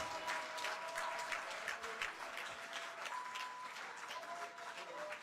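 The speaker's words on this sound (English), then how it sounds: "A big round of applause." Applause from the audience at a UN conference on a slavery resolution: soft, distant-sounding clapping that holds steady for several seconds beneath faint tonal room hum, with no talking.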